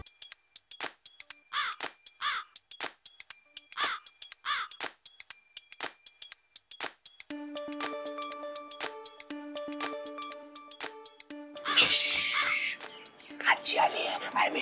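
A crow caws during a shraddh ritual offering, giving a string of harsh, fairly close calls in irregular bursts. Tinkling music with bell-like tones and voices follows.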